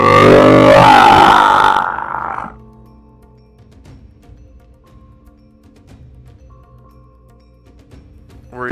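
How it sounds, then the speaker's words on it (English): A harsh, warbling scream from a red dot beholder monster in a tabletop fantasy game blares loudly for about two seconds, then gives way to near silence with faint scattered clinks. "this other beholder, the red dot beholder, kind of lets out this weird scream"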